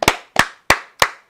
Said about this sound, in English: I love the 2 claps.